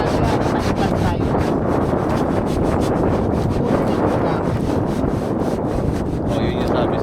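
A fishing boat engine runs steadily at sea, its drone blended into heavy wind buffeting the microphone, with the motor's speed being adjusted while steering by the rudder. The noise is constant and loud for the whole stretch, with no voices.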